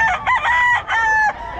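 A rooster crows loudly and close by in a Bocaue poultry setting, its drawn-out call rising and holding with strong harmonic tones in two main bursts, with no talk over it.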